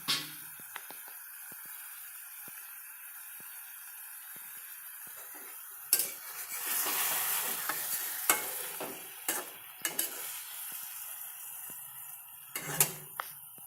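Fish cooking with yogurt in a pan, mostly quiet at first, then bursts of sizzling with spoon scrapes and clanks against the pan as it is stirred, close and with no talk.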